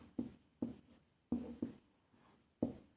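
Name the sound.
writing by hand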